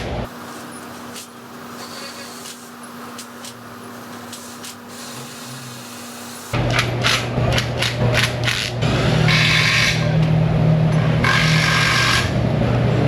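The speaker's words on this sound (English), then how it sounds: "So let's get the cover bolts in." Ratchet tightening the engine cover bolts on a Corvette during an engine reseal, a series of quick clicking strokes in a garage over a steady hum, growing louder partway through.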